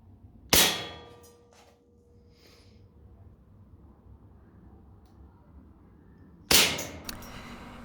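A Colt 1911 CO2 airsoft pistol fires two sharp, loud outdoor shots about six seconds apart. Each shot has a crisp metallic crack followed by a short decaying ring.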